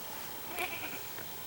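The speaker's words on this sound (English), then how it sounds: "No, I heard a goat." A goat bleats once, faint and distant, somewhere off a hiking trail in the Catskills, heard over steady outdoor background noise.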